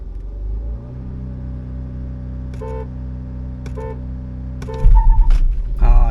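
A 115 BHP Volkswagen Virtus sedan and a 172 BHP Mahindra Thar Roxx at a drag race start: a steady idling engine drone with short horn-like tones, then a loud surge of revving engines launching nearby.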